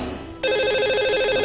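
A telephone ringtone cuts in abruptly and holds as a loud, steady electronic warble, sounding as an outgoing call is placed to a lucky caller on a radio show.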